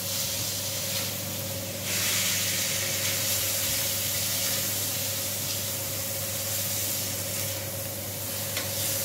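Seafood and fish sizzle steadily in a pan of softened fried onion while cooking for fideuà, a continuous close frying hiss with no talking.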